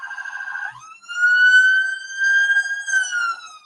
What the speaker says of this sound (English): Well done, Nabila, for continue on over the sirens, I think, in your background there